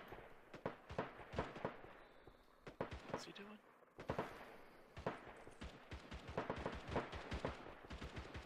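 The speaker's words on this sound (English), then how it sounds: "that's AK fire" AK rifle fire in a tactical video game comes in sharp bursts and scattered single shots, some loud and close, some more distant, mixed with voices talking.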